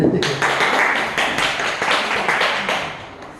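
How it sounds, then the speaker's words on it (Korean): Audience applause fills the room at a Mannatech business seminar in Seoul, a steady, dense clatter of many hands clapping close by with no talk over it. "힘차게 박수 쳐주시면 제가"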